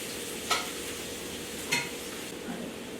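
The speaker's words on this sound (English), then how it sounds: "And then we're gonna add 1/2 cup of onion. And you just wanna saute these for about 3 to 4 minutes." Half a cup of onion sautéing in a pan for baked seafood mac and cheese, a soft continuous sizzle broken by a few brief scrapes of a utensil stirring, quiet and close.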